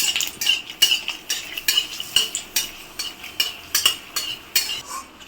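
Dry red chillies fry in mustard oil in a wok while a metal spatula stirs them, giving about a dozen rhythmic scraping strokes over a faint sizzle, close up and without talk.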